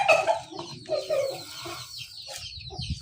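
Chickens cluck and chatter close by in a bursty, overlapping flurry, with the sound of feed and scratching underneath as the birds are given food.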